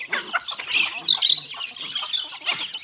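Chickens cluck and squawk close by in a busy, overlapping chorus of short calls, with some wing flapping mixed in.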